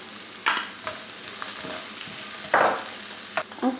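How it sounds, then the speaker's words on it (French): Shallots and bell pepper pieces sauté in a pan with a steady sizzle, punctuated by a few spatula scrapes and stirring knocks, close and clear with no talking. "après avoir fait revenir les échalotes ou l'oignon, je rajoute les poivrons"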